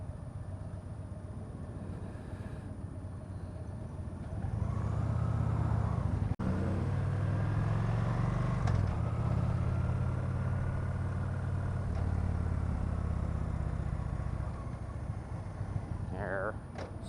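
A 2015 Victory Cross Country motorcycle with stock exhaust pipes idles with a steady low rumble that grows fuller partway through and holds for several seconds, recorded close under wind noise, with a rider talking over it.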